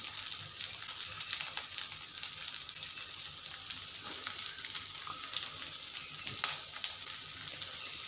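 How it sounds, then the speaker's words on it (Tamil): Onions sautéing in hot oil in a pan, a steady close hiss and crackle of frying that runs continuously without a break, with faint scraping underneath. "கொஞ்ச நேரத்தில் வெங்காயம் வதங்கிடும், சூட்லேயே வதங்கிடும்."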